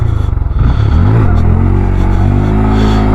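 A Honda Grom motorcycle engine revs hard and close, its note climbing and dipping through throttle blips before settling into a loud, steady high drone.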